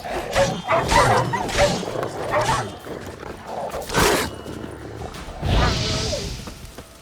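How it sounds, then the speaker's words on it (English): Several dogs bark and growl in The Witcher 3, with loud bursts coming in irregular clusters and one sharp yelp near the end. The barking is fairly close and stands alone, with no talk over it. "Hey, dogs."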